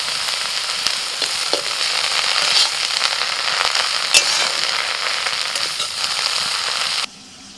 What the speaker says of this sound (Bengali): পেঁয়াজ কাঁচা লঙ্কার সঙ্গে শাকটাকে নাড়াচাড়া করতে করতে শাকটা কতটুকুন হয়ে গেছে দেখুন